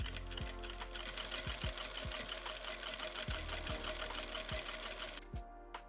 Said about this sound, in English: I pin together the lower collar pieces and the upper collar pieces and stitch them.